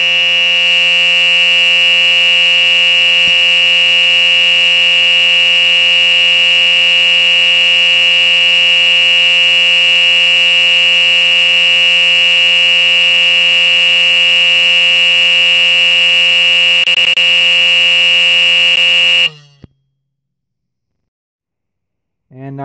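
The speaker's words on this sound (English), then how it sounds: "this was a 12 volt horn strobe" An Edwards 895B 12 volt horn strobe fire alarm sounds a loud, continuous, harsh electronic horn tone close by for about nineteen seconds, then cuts off.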